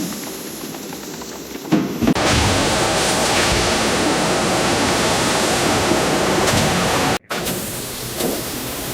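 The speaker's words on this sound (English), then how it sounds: "they're mixed with water inside massive industrial pulpers, breaking the old paper down into a soft," Massive industrial pulper churns old newspapers with water into slurry, a loud, steady roar of rushing water and machinery with a sharp brief interruption near the end.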